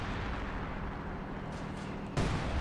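Anti-tank fire slams into a Panzer IV in the Company of Heroes strategy game, a steady rumbling battlefield din broken near the end by a sudden loud impact burst.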